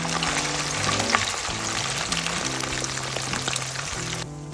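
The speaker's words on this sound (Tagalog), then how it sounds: "lagay na natin ang shredded chicken. Toast lang natin yan hanggang sa lumutong." Shredded chicken toasting in a pan for chicken pastil gives a steady, dense frying hiss with crackle throughout, close and fairly loud, with faint music-like tonal bands underneath and no talk.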